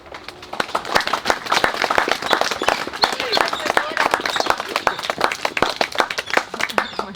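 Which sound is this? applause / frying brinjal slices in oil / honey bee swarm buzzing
applause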